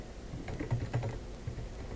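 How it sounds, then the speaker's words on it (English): Keys clatter on a computer keyboard as a name is entered while adding a Windows 11 user, a quick close run of soft taps with no talk. "Type in the name,"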